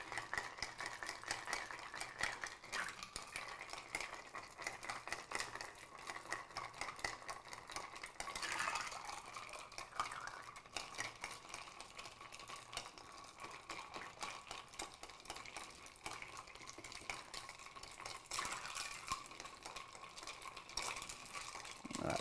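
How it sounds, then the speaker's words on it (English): A stirred Paloma cocktail swirled with a bar spoon over a large ice cube in a glass: a quiet, continuous rattle of ice and soft clinks that carries on for a long stretch without talking. "Give it a nice stir."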